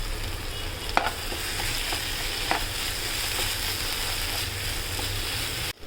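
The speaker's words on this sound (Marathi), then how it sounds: "छान परतून घ्यायचं खोबरं लसूण टाकल्यावर" Ground coconut and garlic masala sautéing in oil, a constant close sizzle with scattered spoon clicks and stirring scrapes, no talk.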